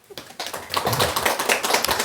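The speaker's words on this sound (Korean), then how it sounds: "박수 한번 쳐주세요" Audience clapping at a Buddhist college lecture, a burst of many hands starting sparse and swelling into steady, fairly close applause for about two seconds.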